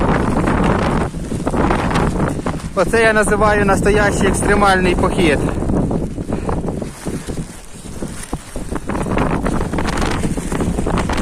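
Heavy wind and torrential rain buffet the microphone with a constant roaring rush and patter, loud and close, while a person talks through it on a lakeside slope during a solo hike.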